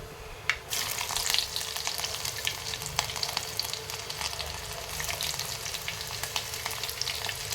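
Garlic hits hot oil in a pan for beetroot palya after a brief quiet start, then crackles and sizzles steadily and close, with sharp spits popping through the frying.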